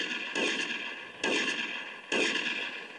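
Shotgun blasts in the video game GTA Vice City, three heavy booming shots spaced about a second apart over a steady high-pitched game ambience, with no voices.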